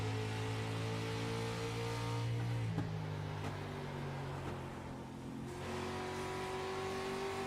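Race car engines in the iRacing sim Rolling Thunder Series desert showdown, a loud sustained onboard roar with shifting pitch as the car revs through gears, steady throughout with no talking.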